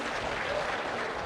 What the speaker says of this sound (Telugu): గట్టిగా చప్పట్లు కొట్టి అభినందించండి